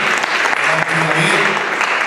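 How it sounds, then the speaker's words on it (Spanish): A church service congregation applauds Saida and her family, a dense, steady wash of many hands clapping together, loud and close throughout with some voices mixed in. "Vamos a dar un aplauso a Saida y a su familia, por favor"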